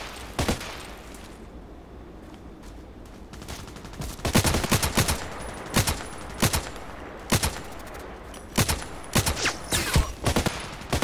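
RFB rifle shots in the video game Contract Wars, a string of loud, close, sharp single reports, sparse at first and then coming in quicker irregular runs, with no talk.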